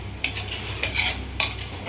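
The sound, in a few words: stirring homemade ghee cooking from cream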